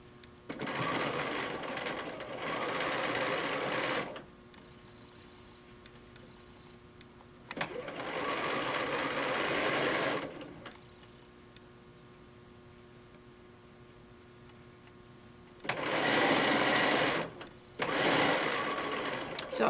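Sewing machine stitching a pincushion seam, three bursts of rapid close whirring stitching separated by quiet pauses.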